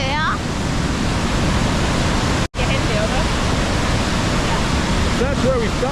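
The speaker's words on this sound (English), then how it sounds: "In the middle of a waterfall." The Rhine Falls roar in a dense, unbroken rush of water that fills the whole scene at close range, with faint voices briefly audible over the torrent.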